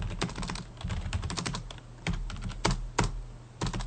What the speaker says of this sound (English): I typed totally the wrong thing.